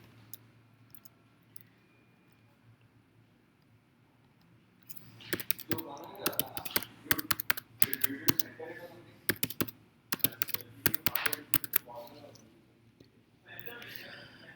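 Keys clatter on a computer keyboard in quick uneven bursts while a generic user is added in a library booking app, with a quiet stretch before the typing starts and soft clicks close up.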